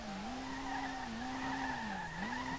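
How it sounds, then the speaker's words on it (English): Car tires squeal in a long, wavering skid while drifting in Street Legal Racing Redline, the pitch rising and dipping steadily under a constant engine roar. "I'm doing a bit too much proximity drifting"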